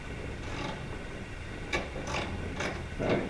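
A hand wrench tightens a nut while fitting Airlift 5000 air suspension on a lifted 2022 Toyota Tundra, giving four short ratcheting clicks in quick bursts over a low background hum, with no talking.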